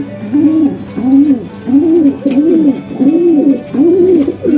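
Pigeons coo close by while baby pigeons are fed, in a steady repeating rhythm, about seven loud throaty pulses in a row.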